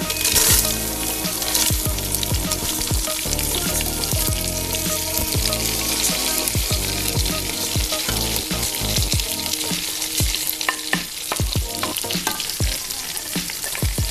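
Washed rice for chicken dum biryani is stirred and fried in a pot, with dense crackling sizzle punctuated by rapid scraping and clinking of the spoon against the pot, close and continuous.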